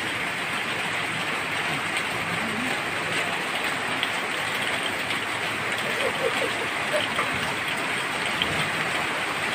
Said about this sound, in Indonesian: Wah, ini hujan ini sahabat.